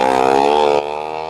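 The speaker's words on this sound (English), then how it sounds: "now look how much is vacuum sealed" A vacuum sealer pulls air from a bag of corn scraps, giving a loud steady motor hum that drops suddenly partway through and then runs on more quietly, with no talking.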